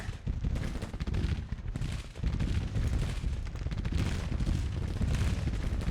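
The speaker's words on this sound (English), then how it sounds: "Let's just see if these guys can actually fire" Massed volley and cannon fire in a Civil War strategy game: loud, rolling, continuous musketry and booming blasts fill six seconds, with brief dips between waves of firing.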